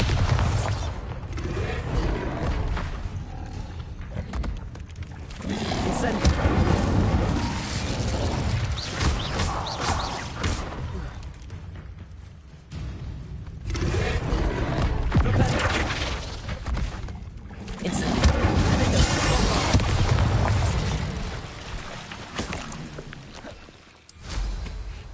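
Bombarda explosion spells cast in Hogwarts Legacy, repeated booming blasts with crashing debris in several bursts across the stretch, moderately loud within busy game sound.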